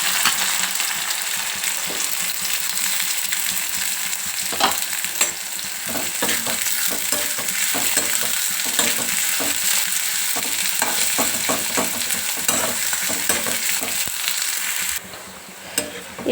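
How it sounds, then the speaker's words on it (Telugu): Thinly sliced onions sizzle and crackle steadily in hot oil in a pan while they are stirred for a mutton dish, with scattered scraping clicks from the utensil; the frying is loud and continuous and no one speaks. "ఈ ఫ్రైడ్ ఆనియన్స్కి ఇట్లా బాగా సన్నగా కట్ చేసుకుంటేనే మంచిగా తొందరగా ఫ్రై అయిపోతాయి"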